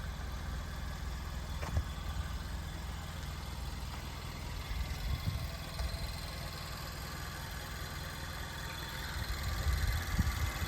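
A Nissan Juke 1.6 DIG-T 190 hp petrol engine idling, a low, steady, quiet hum with faint mechanical vibration and no revving.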